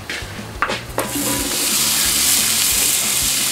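Peppers, onions and garlic sizzle and fry in an oiled skillet, a steady dense hiss close up, with a couple of sharp clinks from stirring near the start.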